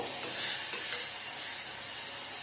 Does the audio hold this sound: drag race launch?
no